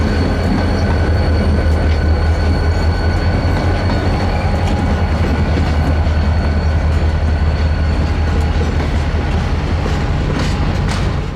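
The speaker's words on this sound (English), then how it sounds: "Buckingham Branch GP40-2 number 7 proudly pulled the train towards the main line" A Buckingham Branch GP40-2 diesel locomotive, number 7, hauls a passenger train with a steady, loud engine drone and continuous rolling wheel rumble, plus faint clickety-clack and occasional squeals, close by throughout with no talking.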